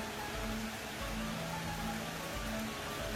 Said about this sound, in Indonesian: Hujan berkah, ini berkah.